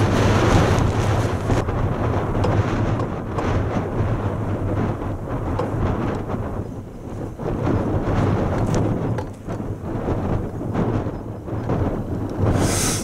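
Strong wind buffets the microphone on an open Peak District moorland walk near Doctor's Gate, a loud continuous roar with gusting swells and no voices.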